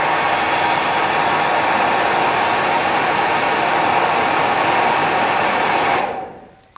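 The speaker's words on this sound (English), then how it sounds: "So if you just give it a wee puff with the hairdryer" A hair dryer blows a quick puff on a tied Pale Morning Dun dry fly to open out the feather, a loud, steady roar for several seconds, then switches off and winds down.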